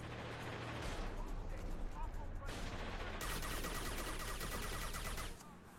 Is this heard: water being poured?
no